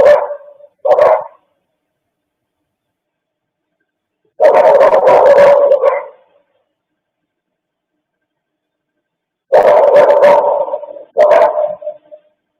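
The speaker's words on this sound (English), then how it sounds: "if my neighbor's dog was barking like this" A dog barks in four loud, close bursts of rapid barks, separated by long stretches of silence, with no talk over it.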